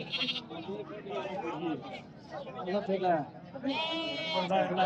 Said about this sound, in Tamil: எல்லாம் செம்மறியாட்டு குட்டி போட்டுக்கிறேன்டா